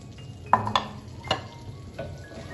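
Chopped onion sizzling in melted butter in a pan, a soft steady fry punctuated by a few sharp clinks and scrapes of a utensil stirring against the pan, close and unaccompanied by talk.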